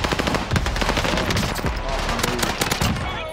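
Rapid automatic gunfire in a shooter video game match on the Caldera map, dense continuous bursts loud and close throughout, with players talking over the shots.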